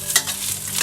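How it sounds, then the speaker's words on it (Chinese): Chunks of ginger crackle in hot oil in a wok, a brief, close, bright sizzle with one sharper pop near the start and no talking. "我们先把这个姜块爆香它"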